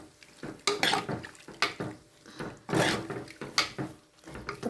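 A spoon scrapes and knocks around a pan as a dried shrimp chutney masala mix is stirred and fried in ghee, with soft repeated scraping strokes, close and fairly quiet.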